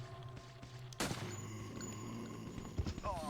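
A sudden loud gunshot blast in the Resident Evil Containment video game, bursting in abruptly after a quiet stretch, with a dense rumbling tail and ambient game tones underneath.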